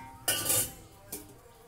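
Two bright metallic clinks of steel pots knocking together, a louder cluster followed by a single lighter clink, in a quiet room.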